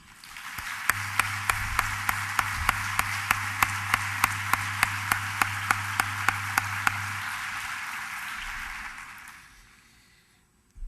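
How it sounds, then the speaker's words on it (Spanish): Broad crowd applause fills a congress hall of the UGT Navarra union, sustained and dense for about nine seconds, with a row of sharp regular claps punctuating it before it fades out. "solicito un nuevo aplauso para ellos."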